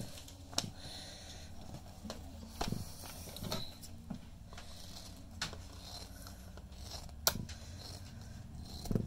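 Scissors snip through craft stamping supplies from a dollar store package in a quiet indoor space, a few sharp, separate cuts spaced out over several seconds, close and fairly soft.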